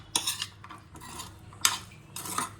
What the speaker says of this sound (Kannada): ಸೊ ಇದನ್ನ ಚೆನ್ನಾಗಿ ಮಿಕ್ಸ್ ಮಾಡ್ಕೊಳ್ಳಿ